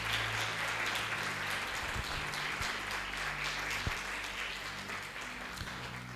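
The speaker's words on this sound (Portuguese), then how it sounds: "Dá um aplauso a Jesus aí pelas células." A church congregation applauds during a cell-group service, a steady wash of many hands clapping in a reverberant hall, moderately distant and continuous, with a few louder knocks.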